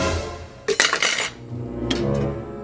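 Metal pots and utensils clatter in a home kitchen during cooking, with a loud burst of clanks and scrapes in the middle and a second, lighter clink of cutlery near the end over a low background hum; no one speaks.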